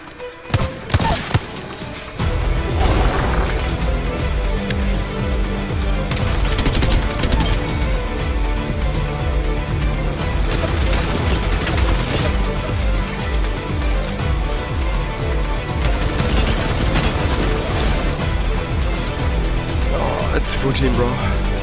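Grenade blast followed by sustained gunfire in the shooter game Apex Legends, a loud dense barrage of shots and impacts running almost continuously after an opening burst, with players' voices mixed in.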